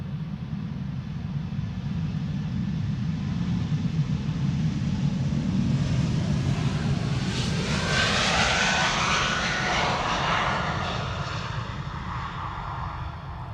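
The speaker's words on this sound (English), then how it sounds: "It's an E2 Embraer 195. Quiet as a mouse." A brand-new Embraer E2 195 jet airliner takes off from Amsterdam Schiphol, its engines a broad, steady roar that builds and holds for the whole stretch, with a rising whine appearing midway as the jet passes.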